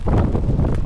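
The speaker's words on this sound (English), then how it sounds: "Big wind gusts, and they're expecting even more later" Strong wind gusts on the Missouri River buffet the microphone with a loud, continuous low rumble and rustle, close and unbroken throughout.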